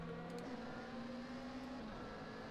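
A Glickenhaus SGC 007 LMH hypercar in a racing video game gives a brief engine drone holding a steady pitch, then dropping slightly near the end, fairly faint and with no talk.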